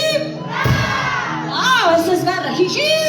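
Wedding guests at a celebration with a live orchestra shout and cheer together in a loud, close crowd roar, whoops and raised voices overlapping throughout, with music faintly underneath.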